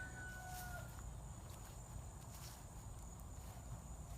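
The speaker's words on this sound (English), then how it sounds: "You can hear our chickens are going in the background." Chickens clucking and a rooster crowing at a distance in a backyard over a steady low background rumble, with some faint footsteps outdoors.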